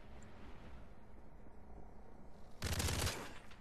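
A short burst of rapid automatic gunfire in Modern Warfare 3 cracks out loud and close after a quiet stretch, a quick string of shots lasting about half a second.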